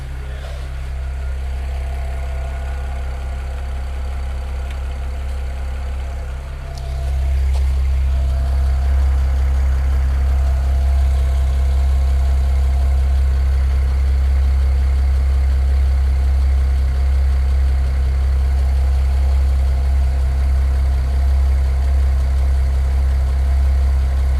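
A BMW N54 335i with a Chinese 17T hybrid turbo idles steadily after its first start, a constant low, loud rumble that thickens and settles at a slightly higher level partway through, with no talking.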